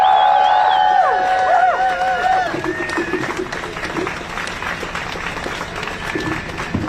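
Crowd applause at an outdoor Harvard protest, dense clapping and cheering that stays steady throughout, with whoops and a melodic tone early on before the noise settles into continuous broadband clatter.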